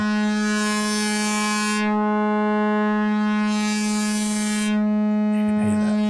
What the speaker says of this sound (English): we've got a bow on a string.